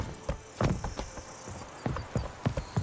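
Roach, Geralt's horse in The Witcher 3: Blood and Wine, walks with a close, steady clip-clop of hooves, several distinct hoof strikes at a relaxed walking rhythm.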